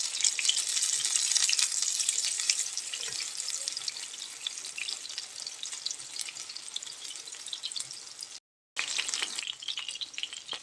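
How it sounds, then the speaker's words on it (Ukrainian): Steady crackling sizzle of zucchini and crab stick patties frying in a hot pan over medium heat, close and continuous, with a brief silent gap near the end. "Смажимо на середньому вогні до золотистої скориночки."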